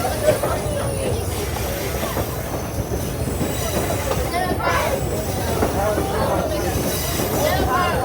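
On board a Blue Ridge Scenic Railway passenger train, a steady, loud rumble of wheels on rails carries on throughout, with some faint clacking and a murmur of passengers' voices beneath it.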